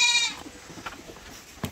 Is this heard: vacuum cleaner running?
no